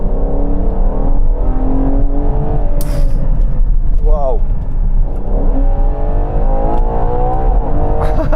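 A Ferrari Purosangue's V12 engine revs loudly from inside the cabin while driving, its pitch rising and falling in sweeping pulls, with a brief exclamation from the driver over it.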